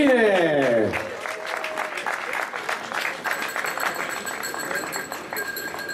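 An audience gives sustained applause and an ovation at a Tour de Romandie 2017 cycling podium ceremony, dense clapping following a descending musical flourish, with an announcer's amplified voice heard at the start.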